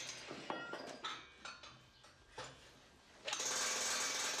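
Excavator-mounted breaker hammer driving a steel base plate into place beside an H-beam on a floor slab during structural reinforcement work: a few sharp metallic knocks, then a loud sustained hammering rattle.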